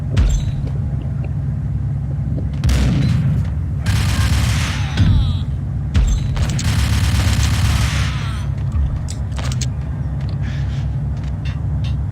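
Rifle gunfire in the Max Payne video game, firing around four shots per second in loud bursts and rapid volleys over a constant low rumble, with no talking.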